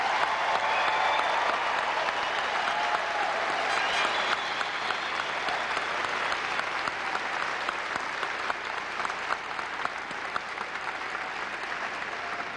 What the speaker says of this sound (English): the class of 2002, let's have another round of applause for them.